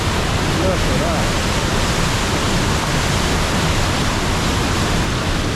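A powerful waterfall on a wild stretch of coast in the far north of Scotland roars as a dense, steady rush of water, loud and close, with a voice briefly heard over it.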